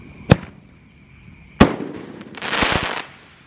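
Roman candle fireworks (1.8 size, super jumbo) fire at night on New Year's Eve: two sharp loud launch bangs about a second apart, then a crackling burst of several quick pops as the shots go off.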